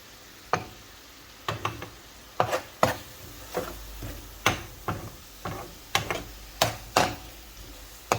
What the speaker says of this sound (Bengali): এখন পুরো নাড়াচাড়া করিয়া মশলাটারে মাখাইয়া নেব